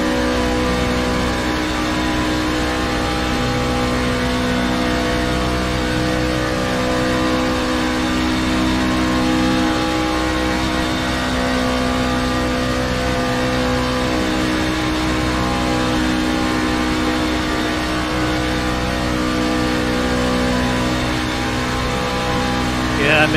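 A damaged race car engine from the iRacing sim at the Long Beach Grand Prix drones steadily and loudly throughout, a constant strained mechanical whir with no pauses.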